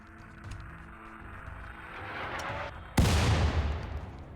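Gunshots in the video game RimWorld, a low rumble of distant shots building up before one sharp, loud blast bursts in and decays slowly, with no one talking.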